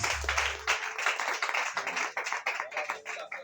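Church congregation clapping together in praise during a Sunday school service: a brisk close burst of many hands, fairly dense and rhythmic, after a brief low hum at the start, with no talking.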